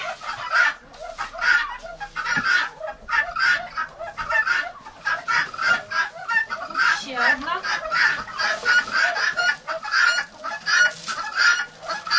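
Ducks call over and over in quick, chattering bursts nearby, a busy run of quacks with little pause.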